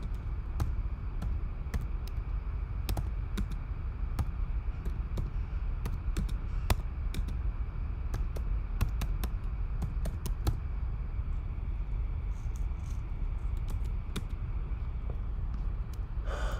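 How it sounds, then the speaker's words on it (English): Someone types on a computer keyboard in irregular bursts of sharp keystrokes, some quick runs and some lone taps, close and fairly quiet over a low room hum. "you go to the internet and you type in"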